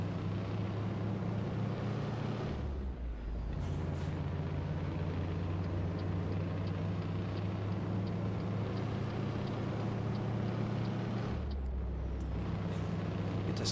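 A heavy truck's engine and exhaust drone steadily in American Truck Simulator, pulling a light load. The note drops away briefly twice for gear shifts before building back to a loud, sustained roar.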